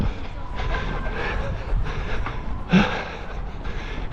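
Train rolling along a rail line in Japan at night, a continuous rumbling rush with a louder swell near the end, heard outdoors amid background noise.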